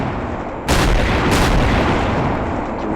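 ACF artillery weapons fire in Garry's Mod: a loud, heavy boom breaks the quiet, with a second blast close behind, then a thick rumbling roar that carries on to the end.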